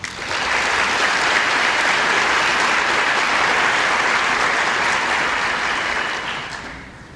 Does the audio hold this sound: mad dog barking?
no